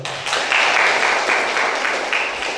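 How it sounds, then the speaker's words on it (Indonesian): Applause from a high-school class in a physics lesson on energy, a steady broadband patter of many hands lasting a couple of seconds without talk. "Oke, kita beri aplaus dulu."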